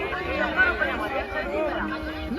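Crowd chatter fills the Kunkeshwar fair, a steady babble of many overlapping voices close around, with louder nearby talk rising above the general hubbub for the whole stretch.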